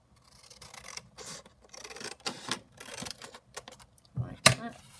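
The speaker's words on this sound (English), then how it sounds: "So I'm going to just cut this out around here" Scissors snipping around a picture in an old Mother Goose book for an altered junk journal, a close series of short crisp cuts and paper rustles, ending with a sharper snap.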